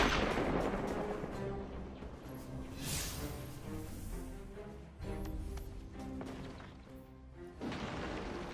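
Bursts of gunfire and impacts against the Fallen in Destiny 2, a busy stream of shots, crashes and booms over game music, loud hits recurring every second or two.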